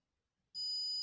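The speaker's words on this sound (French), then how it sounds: "Si oui, tu me fais sonner la sonnerie." An electronic bell or buzzer sounds as a single sustained high tone that starts abruptly halfway through and holds steady to the end, loud and alone after near silence.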